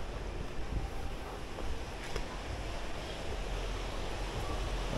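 Sea waves wash steadily onto the shore at Patar Beach in Bolinao, Pangasinan, a broad continuous surf rush mixed with gusty wind noise on the microphone, with no voices present.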